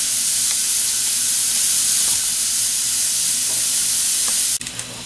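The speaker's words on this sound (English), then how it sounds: "lay that steak on that hot grill" A steak sizzles steadily on a hot grill, loud and close with a constant bright hiss, until a sharp clatter near the end briefly changes the sound.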